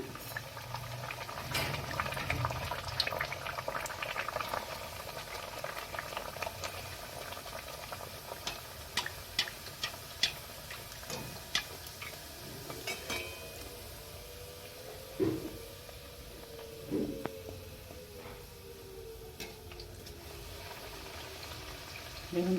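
Beet and carrot kachori dropped into hot oil and frying, a steady bubbling sizzle with clicks and pops, louder at moments as the dough puffs.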